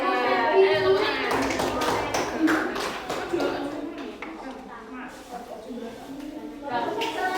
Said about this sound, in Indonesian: tepuk tangan untuk Rehan. Ayo tepuk tangan.